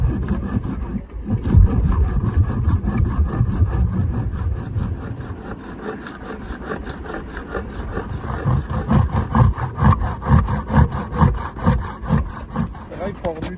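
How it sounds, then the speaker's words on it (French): A Japanese pull saw cuts through a Delrin plastic plate in steady, rapid back-and-forth rasping strokes, close and fairly loud, with a brief pause near the start and a quicker, more even rhythm later. "Et maintenant, il faut scier ça. Prendre ma scie japonaise,"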